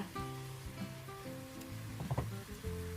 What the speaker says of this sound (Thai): ใส่มันฝรั่งหั่นเต๋าตามลงไปค่ะ แล้วก็ผัดต่อเลยนะคะ